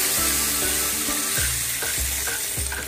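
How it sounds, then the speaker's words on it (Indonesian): Water is poured into a hot pan of fragrant, browned aromatics for a tofu, carrot and luffa soup, raising a loud, steady sizzle with rhythmic stirring scrapes and no talking. "Aku taruh air ya."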